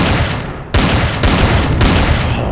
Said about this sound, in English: 16 shots with a sniper rifle